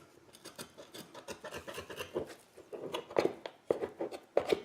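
The back of a knife drags over a beef cowboy steak at home, scraping the bone skin off in repeated close, raspy strokes that grow louder toward the end.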